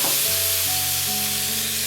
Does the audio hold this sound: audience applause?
no